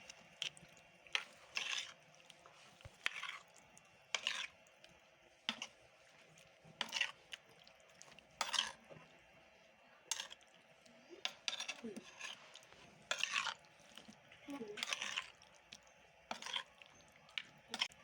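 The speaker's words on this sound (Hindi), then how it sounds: "सारी चीज़ों को मिक्स करते हैं हम।" A spoon mixing spices into chicken marinade in a bowl, giving a series of soft, irregular scraping and squishing strokes at close range, with no speech.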